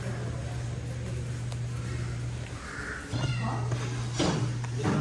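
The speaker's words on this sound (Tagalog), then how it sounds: "Cute yung pusa." A cat gives a brief, moderately close meow in Bolinao, heard over a steady electrical hum and faint background voices.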